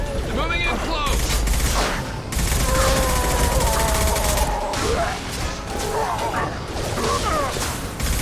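Rapid gunfire in Mass Effect 2 during a combat fight: dense bursts of shots and crackling impacts, loud and nearly continuous, with brief lulls and some garbled voices mixed in.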